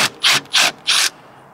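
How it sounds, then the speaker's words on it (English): A ratchet works bolts loose on a lifted CFMOTO UForce 1000 XL side-by-side, three quick close rasping clicks in an even rhythm, then quiet. "So let's get pulling these bolts here."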